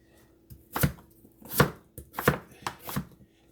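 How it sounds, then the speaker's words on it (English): Cooked potatoes are chopped with a knife on a cutting board for mashed potatoes, five crisp, evenly spaced chops sounding close and loud with no talk. "The reason I'm chopping it up to make the mashed potatoes"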